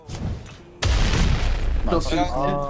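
A grenade explodes in the battle royale game PUBG with a sudden loud boom that leaves a rumbling tail. Team voice chat comes before the blast and continues after it.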